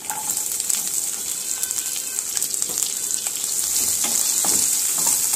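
Small shallots frying in hot oil with fennel seeds and cumin for a liver dish, a loud continuous sizzle and crackle up close with occasional stirring, no voices.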